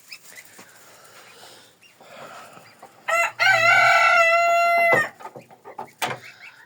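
Downy hens cluck softly and sporadically nearby, then a rooster lets out one loud, long crow that dominates for about two seconds before the quieter clucking resumes.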